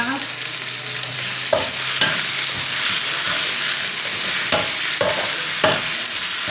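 Curry paste is stir-fried in a hot pan for a grilled stingray dish, with a loud, steady sizzle and occasional sharp spatula scrapes spaced a second or so apart.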